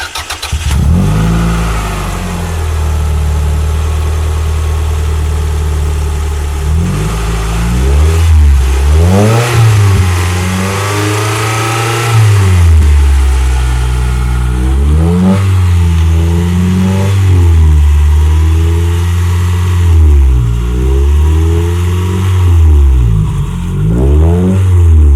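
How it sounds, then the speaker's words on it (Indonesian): A 1997 second-generation Toyota MR2 with original parts and 24,000 km starts up, and its exhaust dominates as the engine revs repeatedly in rising and falling bursts, loud and close throughout. "Sekarang kita nyalain mesinnya. Ya walaupun suara knalpotnya pasti dominan."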